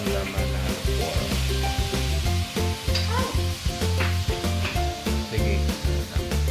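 Steady, loud sizzling of marinated pork frying in a pan, a continuous crackling hiss with a rhythmic pulsing texture throughout and no talk.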